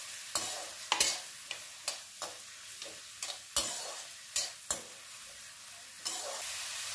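Chopped onion and garlic fry in hot oil for a winter saag, giving a soft continuous sizzle broken by about a dozen sharp scrapes and clacks from a spoon stirring the pan.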